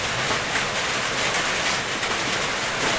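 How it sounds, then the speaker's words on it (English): Rain falls steadily outside, a continuous soft hiss of drops on surfaces heard at a distance and fairly quiet, with no voices. "Can y'all hear the rain out there?"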